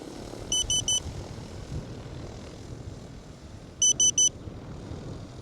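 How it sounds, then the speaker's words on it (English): An agricultural spraying drone flies over a forestry block with a steady, low droning hum. Two quick sets of three short electronic beeps sound above it. "you just have the confidence now to just watch the drone, see what it's doing"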